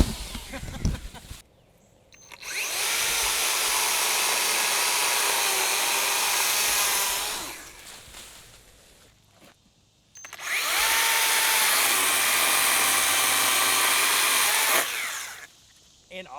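A Bad Boy 80-volt battery pole saw cuts saplings in two long, loud bursts of high whining motor noise, each lasting about five seconds, separated by a short quiet pause.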